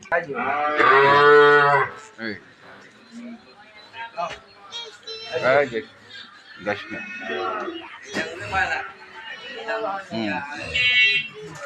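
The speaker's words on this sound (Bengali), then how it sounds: "এটা একটু খুলেন তো গরুটা" A young calf about six to seven months old moos loudly several times at a livestock market, its long lowing calls mixed with people talking close by.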